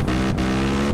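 A motorcycle revs hard in GTA San Andreas, a loud, steady buzzing engine note holding throughout the short moment.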